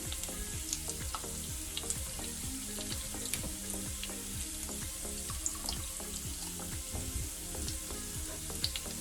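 Cinnamon sticks, bay leaves and cardamom pods sizzle and crackle steadily in hot oil, a dense continuous fry with sharp pops scattered throughout, close and alone with no talking.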